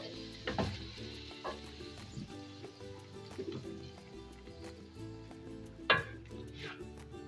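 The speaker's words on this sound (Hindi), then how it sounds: "इसको 2 मिनट भूनेंगे, और जब ये 2 मिनट जब चिकन भून जाएगी" Chicken frying in a pan for shahi chicken, a faint steady sizzle broken by occasional spoon stirs and scrapes against the pan, one sharper clack standing out near the end.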